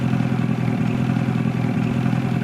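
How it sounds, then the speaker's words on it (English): A vehicle engine in Farming Simulator 22 idles with a steady, loud low hum and a faint rattling texture, running unchanged throughout and heard alone. "we're just going to have to fish with the engine running"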